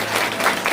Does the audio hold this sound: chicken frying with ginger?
no